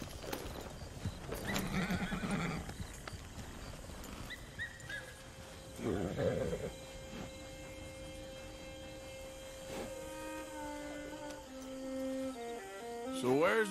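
Horse hooves clip-clop steadily in Red Dead Redemption 2, with several loud neighs and whinnies rising over the gallop and faint voices in the background.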